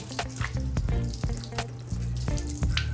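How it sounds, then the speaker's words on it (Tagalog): Water splashes onto a ceramic-coated Honda Fazzio scooter during a wash, a steady close spray with rushing, tap-like hiss and irregular patters and drips as it sheets off the bodywork. "bagsakan agad ng tubig eh"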